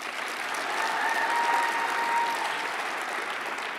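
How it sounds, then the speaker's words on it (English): Audience applause at a school award ceremony honoring a high school baseball team, a steady, even clapping that holds at moderate level throughout without voices over it. "Join us in applauding these young athletes"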